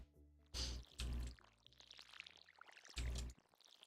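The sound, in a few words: watering crops with a watering can in Stardew Valley video game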